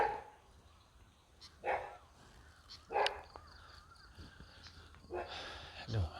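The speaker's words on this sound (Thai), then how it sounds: "ไอ้ตังไอ้ตังมันเห่า" A dog barks several times at a distance, short separate bursts spread over a quiet, low background hum.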